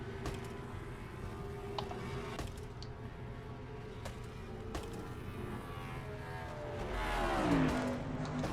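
Stock cars in a racing video game, including a Pontiac, roar through turns one and two at Rockingham: a continuous engine whine that swells louder as a car sweeps close near the end.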